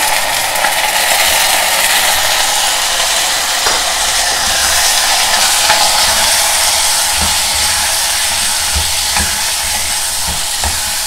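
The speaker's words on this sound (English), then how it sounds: "Just stir fry the vegetables for 1 or 2 minutes in the oil" Chopped vegetables stir-fried in hot oil for a South Indian brinjal and palak dish, giving a loud, steady sizzle and hiss with occasional scrapes and clinks of stirring throughout.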